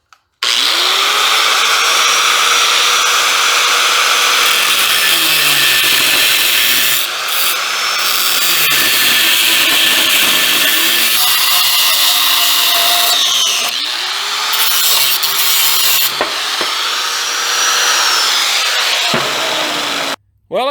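A power tool cuts through a steel bar 3/4 inch thick by 1.25 inches wide, a loud, close, continuous grinding roar with wavering pitch as the blade bites, running nearly the whole time before stopping abruptly.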